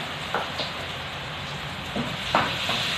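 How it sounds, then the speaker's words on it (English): Onions sauteing in a pan for a Filipino fish-in-sauce dish give a steady soft sizzle throughout, with a few brief stirring clinks and scrapes, close by and with no talk. "So we are now started to saute the onions."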